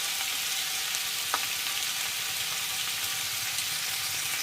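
Raw green tomatoes fry with swamp barb fish and salt in a hot pan, giving a continuous, close sizzle with a faint stirring clink, steady and even throughout, with no talk.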